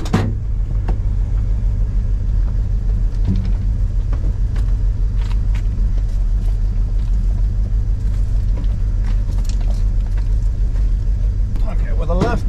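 A four-wheel drive vehicle's engine runs with a steady low rumble that persists throughout, loud and close, with some clatter and scattered speech-like sounds over it.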